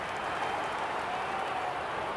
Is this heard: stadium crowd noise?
yes